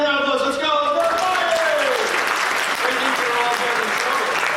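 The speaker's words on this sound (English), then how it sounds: "Give a round of applause." A seminar audience claps loudly and continuously while a presenter talks over the first couple of seconds; the dense applause then carries on alone at an even level.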